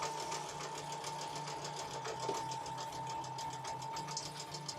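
A sewing machine runs steadily after a fresh needle change, a fast, even, rhythmic stitching whir heard up close, with a faint background hum and no talking.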